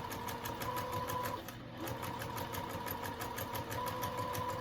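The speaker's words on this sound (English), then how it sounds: "just keep sewing" A sewing machine stitches steadily through fabric for a reusable mason jar cover, its rapid, even whirring clatter running almost without a break, with a brief slowdown partway through.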